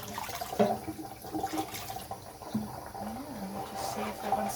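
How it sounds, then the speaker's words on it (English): Cold water running and splashing as it rinses the back of a screen for crafting, a steady broadband wash with brief voice-like murmurs mixed in. "the internet told me to rinse it on the reverse with cold water"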